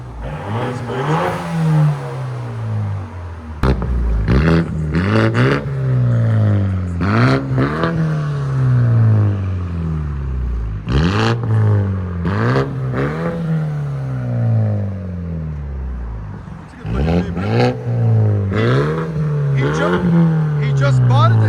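Loud, close revving from a 2015 BMW 328i 2.0L turbo running straight pipes, with repeated sharp throttle blips and longer climbing pulls that drop back to idle between them.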